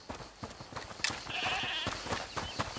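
A goat in the video game A Plague Tale: Requiem lets out a single faint, wavering bleat from some distance, over a low background murmur.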